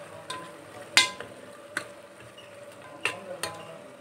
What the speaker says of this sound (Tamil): இப்ப மசாலா நல்லா வதங்கி வந்துகிட்டு இருக்கு